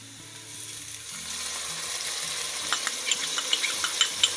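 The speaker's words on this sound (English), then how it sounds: "Next we are going to add our minced garlic." Minced garlic hits a pan of translucent cooked onions in olive oil and sizzles steadily, growing louder, while a utensil stirs with a few soft scrapes and clicks near the end. No one speaks.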